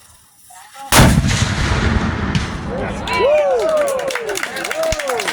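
A Civil War muzzleloading cannon fires one sudden, loud boom at a live-fire demonstration, then a long rumbling decay as people shout and talk.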